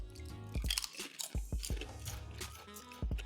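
Plain potato chips bitten and chewed close up, several sharp crisp crunches in quick bursts with brief pauses between, no talk.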